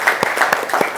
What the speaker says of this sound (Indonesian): Kita tepuk tangan untuk kelompok 4 dulu